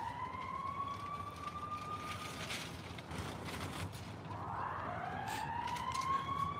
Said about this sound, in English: That's the sirens you hear right now.